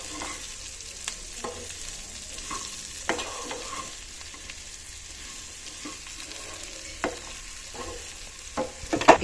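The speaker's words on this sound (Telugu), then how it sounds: "ఇప్పుడు బనానా పీసెస్ కట్ చేసుకున్నాం కదా, అవి వేసి ఫ్రై చేసుకుందాం" Raw banana pieces fry in a pan with a steady hiss, while a spatula taps and scrapes in irregular strokes that grow busier toward the end, with no talking.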